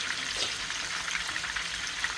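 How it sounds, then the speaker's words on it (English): Parrot fish fries in a pan with a steady, even sizzle and crackle that continues throughout, close and fairly quiet, with no talking. "Fish are frying nice."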